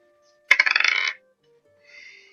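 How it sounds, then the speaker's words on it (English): Dice rolled onto a table during a tabletop Dungeons and Dragons game, a quick close burst of rattling clicks and bounces lasting about half a second, followed by quiet and a faint softer tail. "Hey, roll a dice."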